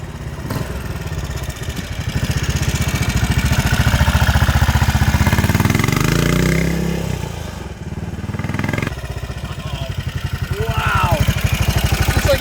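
A 1971 BSA Victor 500 Enduro motorcycle engine idles with a steady, rapid mechanical thump throughout, its rumble briefly swelling midway before settling back to a low putter.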